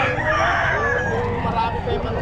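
A rooster crows at a busy Bocaue flea market, the call rising over steady crowd chatter and market bustle, with people talking nearby throughout.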